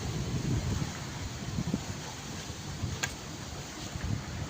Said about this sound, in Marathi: जोरात वारा आहे, भयानक वारं होतं आणि आता पाऊस सुरू व्हायला लागलाय